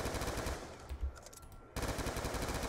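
Rapid assault rifle fire in Black Ops 2 Zombies on the Buried map, loud dense bursts with a short pause mid-way before the firing resumes, no one speaking over it.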